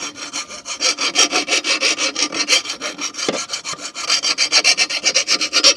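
A lawnmower deck is scraped clean with quick, rhythmic rasping strokes, a close and steady back-and-forth scratching with a single brief knock partway through.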